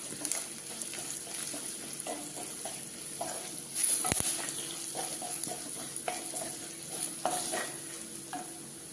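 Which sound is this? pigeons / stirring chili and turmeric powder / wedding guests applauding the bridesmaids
stirring chili and turmeric powder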